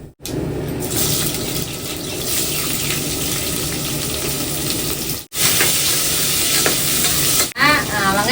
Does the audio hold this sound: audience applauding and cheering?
no